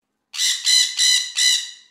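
A small parrot lets out four rapid, shrill squawks in an even run, loud and near, with no other sound around them.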